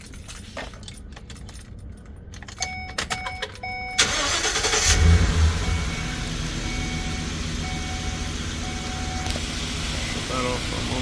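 A vehicle engine with its doghouse cover removed and a spark plug misfiring on cylinder 1 cranks and catches after keys rattle, then runs loud and uneven close by, with a person talking over it.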